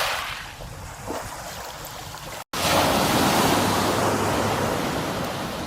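Waves wash onto a muddy Thames foreshore in a steady broadband surge, with wind noise over the water. A brief dropout interrupts it before it returns louder.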